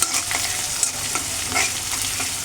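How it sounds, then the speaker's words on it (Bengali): Spices crackle and sizzle loudly in hot oil for a chicken curry, with steady stirring scrapes and no voices. "আমার মশলাটা ভাজা হয়ে গেছে"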